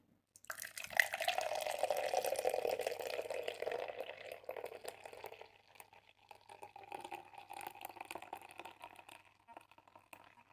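Ale poured into a glass, a close liquid rush that starts abruptly, runs strongly for a few seconds, then thins into a softer trickle and fizzing as the glass fills.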